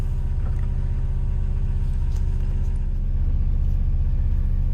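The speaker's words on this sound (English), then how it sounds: "So the engine's running." The diesel engine of a hydraulic machine runs at a steady idle, a loud, continuous low throbbing rumble with even, unchanging pulses and no voices.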